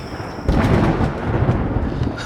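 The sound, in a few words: thunder of an approaching storm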